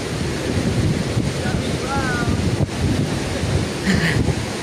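Heavy, rough ocean waves crash continuously on a beach during a storm, with strong wind buffeting the microphone and a low, dense roar throughout.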